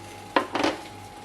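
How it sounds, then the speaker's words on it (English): Mac and cheese being put onto a plate: a brief scrape and clink, then a softer serving scrape, in a quiet kitchen. "let's put the mac and cheese onto the plate"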